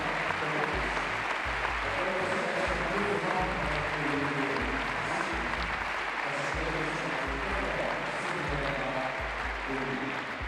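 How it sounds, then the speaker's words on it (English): Arena audience at a crew competition final applauding and cheering steadily as an injured athlete leaves the floor, a dense continuous wash of clapping with low thumping underneath, loud and sustained throughout. "The audience is cheering him out."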